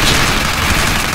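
Dense, continuous gunfire in the Rambo arcade shooter, a steady wall of rapid shots with no pauses, loud and close for the whole brief stretch.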